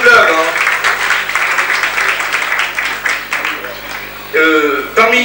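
A room full of people applauds a judo club at a 1984 inter-sports evening in a club venue, sustained clapping, then a voice starts talking near the end.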